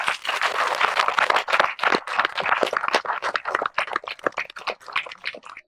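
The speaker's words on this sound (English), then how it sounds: "I would like to invite every one of you to give a round of applause for every one of you." An audience at an alumni show gives a round of applause, dense clapping that rises fast and then thins into scattered claps, close and lively.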